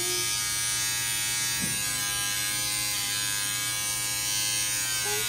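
An electric hair trimmer runs with a steady, close buzz for a baby's haircut at two months old, held near the head without cutting, with a brief soft thump partway through.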